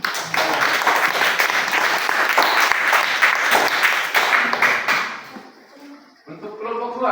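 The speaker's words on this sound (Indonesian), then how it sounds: "tepuk tangan untuk kelompok" A classroom of students claps for a student group with steady, dense applause lasting about five seconds, then fading out as a voice starts talking.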